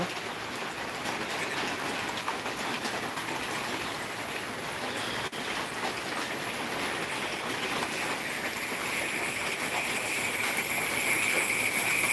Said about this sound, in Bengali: আমাদের মানিকগঞ্জে আজকে প্রচুর পরিমাণে বৃষ্টি হচ্ছে প্রচুর পরিমাণে